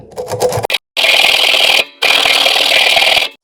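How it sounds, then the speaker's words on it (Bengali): A PVC pipe drill handle is rubbed down against a pipe to fit its size, making loud, close scraping passes: a short rattly burst, then two long sustained rasping strokes separated by a brief pause. "এটা এবার এই পাইপের উপর দিয়ে জাস্ট এইভাবে ধরবো ধরে এইটাকে ঘষে এই পাইপের সাইজ বরাবর করব"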